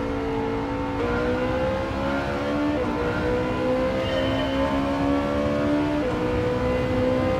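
A Ferrari race car engine revs continuously in Gran Turismo 7, its steady rising and falling harmonic whine filling the whole stretch, loud and close, with gear-shift dips near the start and again later.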